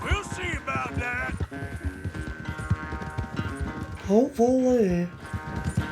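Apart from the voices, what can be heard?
horse hooves galloping, from video game Red Dead Redemption 2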